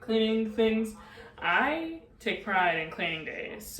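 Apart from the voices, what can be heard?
No everyday noises stand out.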